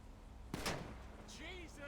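A single sharp gunshot for a headshot in the GTA Online video game rings out once, followed by a short decaying tail and a voice speaking briefly afterward over low game ambience.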